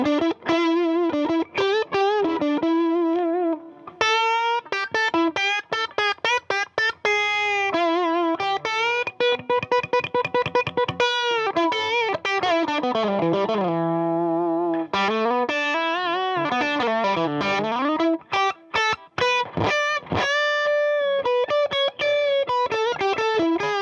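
Overdriven electric guitar played through a Vox Cambridge 50 modeling amp on its Boutique Overdrive model, with varied riffs, sustained bends and chords running continuously and loud, a faint background hiss underneath.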